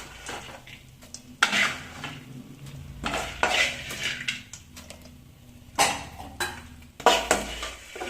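A ghee mixture for aval vilayichathu being stirred in a pan, with a spoon scraping and clanking against the metal in irregular bursts over a faint sizzle.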